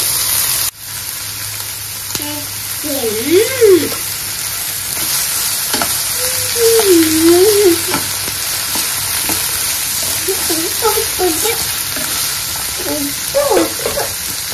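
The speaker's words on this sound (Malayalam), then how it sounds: "ഒരുപാടൊന്നും ഫ്രൈ ആയി എടുക്കണ്ട, നമുക്കൊന്ന് ചെറുതായിട്ടൊന്ന് വഴറ്റി എടുത്താൽ മാത്രം മതി" Ingredients sautéed lightly in a frying pan with salt added, ahead of chicken going in for a teatime snack; a steady broadband sizzle runs throughout, with a voice talking over it at intervals.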